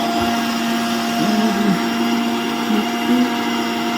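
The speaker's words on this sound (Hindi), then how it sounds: "मैंने ये सीड्स सारे रोस्ट करके और मिक्सी में जार में पीस लिए हैं" A kitchen mixer grinder with a large jar whirs continuously as it grinds roasted seeds, a steady motor whine with slight pitch wobbles as the load shifts.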